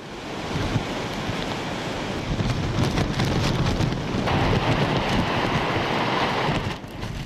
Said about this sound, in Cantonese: 風雨由出入口打橫吹入嚟，吹喐啲車，吹爛巴士玻璃